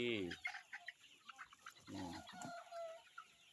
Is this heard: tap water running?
no